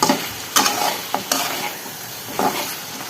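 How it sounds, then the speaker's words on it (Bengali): Boneless meat cooking with ground spice paste in a pan, stirred in a few sharp scraping strokes over a close, steady sizzle, with no talk. "গোশ রান্না করে নিচ্ছি।"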